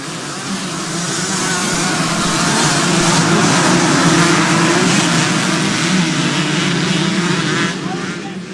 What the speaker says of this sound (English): Quite a lot of 125s in this race as you listen to them making their way through.